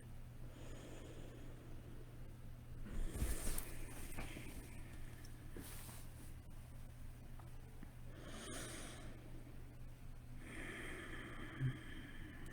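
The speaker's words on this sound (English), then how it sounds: "So now we're going to take a couple of deep breaths here." Slow, deep breaths drawn in and let out during a guided meditation, soft airy inhales and exhales spaced a few seconds apart, close and quiet against a faint low hum.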